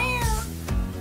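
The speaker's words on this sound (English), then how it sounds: "Just meows back and forth." A cat gives a short double meow, two close-up drawn-out calls in quick succession.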